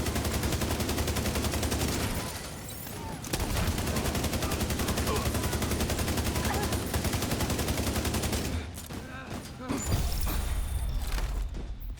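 Dense, sustained automatic gunfire in a shooter video game, nearly continuous bursts with a brief lull early on and choppier, broken shots toward the end.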